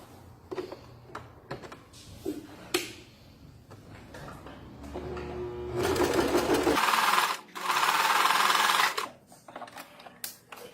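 A sewing machine stitches a zigzag stitch at varying widths, starting in short stop-start bursts of clicking. It then runs in two sustained, louder rattling stretches, close and with no talk.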